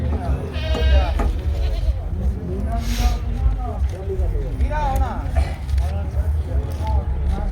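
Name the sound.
goats bleating at a livestock market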